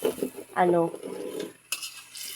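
A spoon scrapes and knocks against a pot of boiling food as it is stirred, with a bubbling simmer underneath. A voice talks briefly over the clattering, which comes back at the end.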